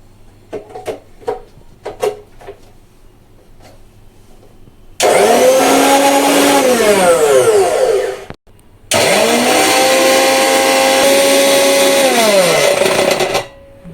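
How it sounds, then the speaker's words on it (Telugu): Mixer grinder jars running after unboxing, two loud motor bursts of about three and four seconds each with a brief stop between, the whine rising and falling at start and stop, after a few quieter clicks and taps. "మిక్సీ గిన్నెలు కూడా చాలా బాగా వర్క్ అవుతున్నాయండి"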